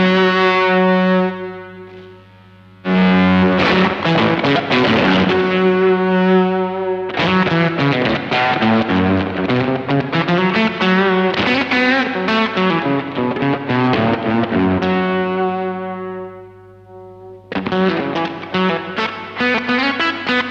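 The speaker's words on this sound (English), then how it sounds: "you can almost make yourself a little spittery, spattery little fuzz if you turn the attack down" Electric guitar through a Ritual Devices Grimalkin fuzz pedal with the attack turned down, loud sputtering distorted riffs played in several bursts separated by brief pauses, alone without talk.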